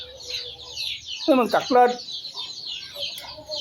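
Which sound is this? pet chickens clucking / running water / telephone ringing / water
pet chickens clucking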